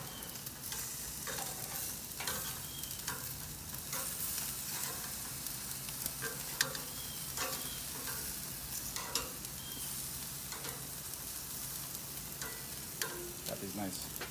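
Sausage and baby bella mushroom caps searing under a Hestan salamander broiler, a soft, even sizzle with faint scattered pops and light clicks throughout, fairly quiet and without talk.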